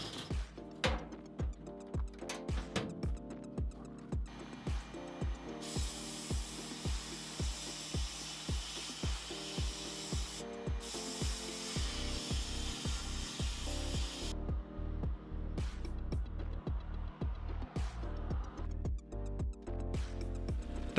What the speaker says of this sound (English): I used a sandblaster to clean up all those hard to reach areas